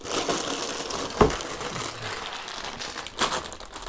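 Plastic parts bag from a LEGO Technic Land Rover Defender copy set crinkling and rustling close by, with a sharper crackle near the start and another burst of crinkles toward the end.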